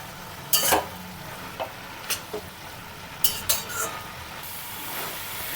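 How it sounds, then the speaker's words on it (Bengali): Cabbage, potato and peas curry stirred in a kadai as the water cooks off, giving a few scattered scraping clacks of a spoon against the pan over a soft steady simmer hiss, with no talking. "আমি যতক্ষণ জলটা না শুকিয়ে যাচ্ছে ততক্ষণ আমি নাড়াচাড়া করে"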